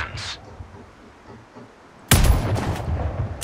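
A sniper rifle shot in the video game Sniper Ghost Warrior Contracts, one sudden loud blast midway that follows a quiet stretch and rings out briefly afterward.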